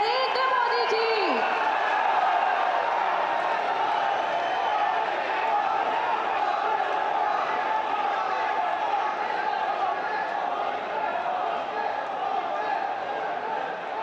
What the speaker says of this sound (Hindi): जोरदार करताली एवं हुलहुली दे स्वागत करिबा माननीय प्रधानमंत्री श्री नरेंद्र मोदी जी